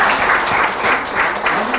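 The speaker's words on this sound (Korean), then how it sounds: "수고 많으셨는데 박수 한번 주세요" Dense, steady applause from a crowd at a Korean political lecture, a loud continuous wash of many hands clapping that holds evenly throughout with no talking on top.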